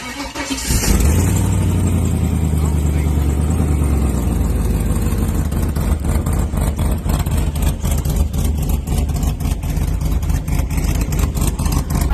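An old truck engine cranks, catches and fires up, then settles into a loud, steady rumbling run close by, with no talking.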